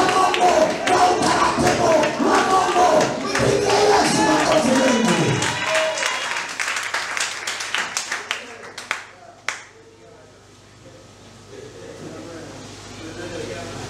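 A church congregation claps together in a dense, energetic burst that carries on for several seconds, then breaks into a few scattered final claps and fades into quiet room tone.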